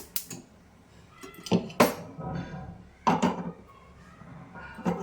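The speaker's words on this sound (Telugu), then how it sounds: "నేనైతే మట్టి కళాయి పెట్టుకుంటున్నానండి" A clay cooking pot set down on a kitchen stove, a few close, hard clunks and scrapes of earthenware against the burner, spread over several seconds in a quiet room.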